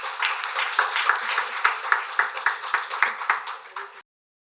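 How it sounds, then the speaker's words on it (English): An audience at a summit claps in a rhythmic, near-unison beat that swells, then fades and stops abruptly, followed by silence. "A huge round of applause once again, please."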